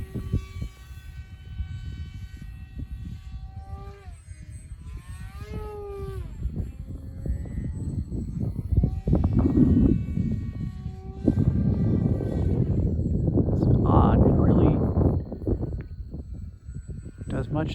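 A Delta model airplane flies loops overhead at a club field, its engine drone rising and falling in pitch as it passes, steady and moderately loud throughout.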